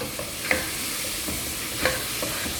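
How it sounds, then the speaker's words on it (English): Masala for prawn pulao frying in oil in a pan as it is stirred, with a soft steady sizzle and two brief scraping strokes of the spoon, close and moderately quiet, with no talking. "Let your masala cook now nicely till the oil leaves the masala. Give it a good stir."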